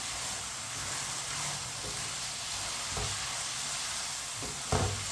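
Mixed vegetables and vermicelli cooking over medium heat in a pan, a soft steady sizzle and hiss with occasional spoon strokes scraping and knocking against the pan, close and even.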